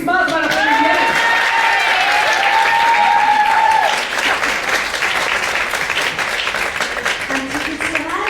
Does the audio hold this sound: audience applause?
yes